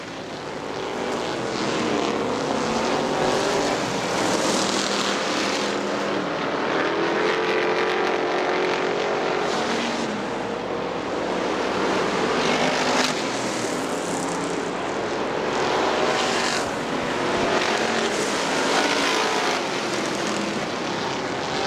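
Street stock race cars at Butler Motor Speedway roar continuously around the oval, a dense, steady engine drone with swelling passes as the pack sweeps by, loud and unbroken throughout.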